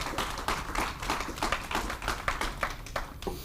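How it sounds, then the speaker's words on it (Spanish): A church congregation claps along in worship, a dense run of brisk, fairly even claps with no talking. "Dale un aplauso al Señor."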